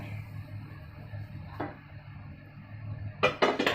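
A cooked whole urad dal dosa is lifted from the pan onto a plate: a quiet clink near the middle, then a short cluster of louder scraping and clattering utensil sounds at the end, over a low kitchen hum.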